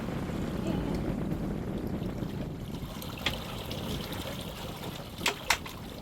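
A sailboat moves under sail at about four knots, with a steady rush of wind and water trickling past the hull, plus a couple of faint knocks near the end.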